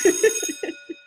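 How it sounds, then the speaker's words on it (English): A school bell rings, giving a bright, sustained metallic tone with lingering overtones that fade over about a second, heard alone and fairly loud. "that's the bell"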